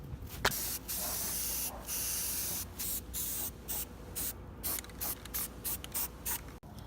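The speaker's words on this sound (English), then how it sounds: "Now I'm going to spray on this semi-gloss protective enamel." Semi-gloss protective enamel sprayed from an aerosol can onto a restored 1965 CJ5 front bumper, heard as a series of close hissing bursts of varying length separated by short pauses.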